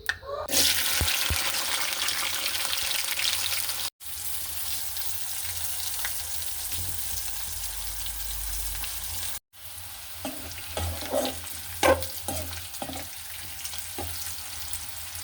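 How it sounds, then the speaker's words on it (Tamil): Bitter gourd pieces frying in oil in a pan, a steady close sizzle with brief stirring clatters and interruptions. "இப்போ இந்த பாவக்காய் எல்லாத்தையுமே சட்டியில் எண்ணெய் ஊற்றி பொரித்து எடுத்துக்கொள்ளணும்."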